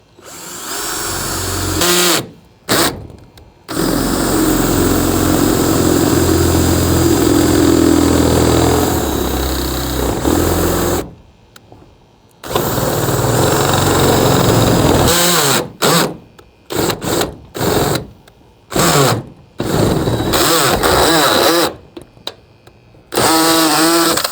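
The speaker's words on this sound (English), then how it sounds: "Pretty sure I got my drill in the wrong setting. That's why it's doing that." A power drill set on the wrong setting whirs loudly while driving bolts on a greenhouse, running in long stretches broken by short stops and a quick run of stuttering starts near the end; close by.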